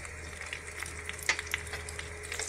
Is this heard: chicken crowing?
no